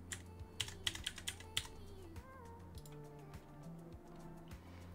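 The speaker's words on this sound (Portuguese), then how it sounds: "Vamos entrar novamente aqui, digitar nossa senha." A password is typed on a computer keyboard as a quick cluster of crisp key clicks early on, then a few sparse taps, quiet and close over a low steady hum.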